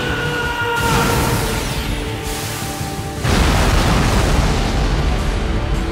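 Bakugo's Howitzer Impact move in the Roblox game Heroes Battlegrounds, a loud synthetic explosion that builds with a whooshing swell and then bursts into a heavy, sustained roaring blast.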